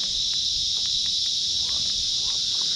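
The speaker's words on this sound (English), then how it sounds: "I'm not sure if you can even hear me over these cicadas, because they're going absolutely nuts" A dense, high-pitched drone of cicadas by canals buzzes continuously and loudly, with a few faint clicks underneath.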